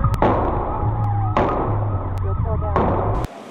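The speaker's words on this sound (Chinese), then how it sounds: "连续枪响吓坏后方驾驶" Several loud, sharp gunshots ring out as police open fire at a fleeing theft suspect's black car during a street arrest, three sharp cracks spaced about a second apart over a steady siren-like hum.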